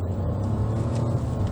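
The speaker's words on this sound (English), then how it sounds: "despite being a 3-cylinder engine, it gives quite a good sound, okay, from a standstill." A 2022 Nissan Almera with a three-cylinder turbo engine pulls away from a standstill, giving a steady, close, low engine drone that holds even throughout.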